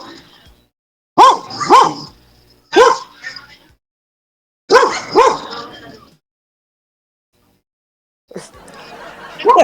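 A dog barks in several close, loud bursts of two or three yips each, separated by short silences, with a brief noisy rustle near the end.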